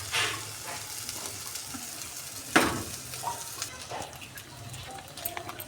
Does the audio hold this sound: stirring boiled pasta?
yes